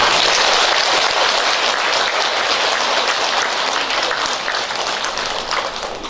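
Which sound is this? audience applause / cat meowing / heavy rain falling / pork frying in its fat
audience applause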